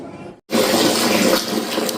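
Water gushes loudly from a household tap mixing hot and cold, starting abruptly after a brief gap and then running as a steady close hiss and splash.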